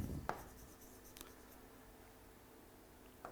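Faint scratching strokes of writing on a board during a chemistry lecture on hydrocarbons, with a few short taps and scrapes over a quiet room hum.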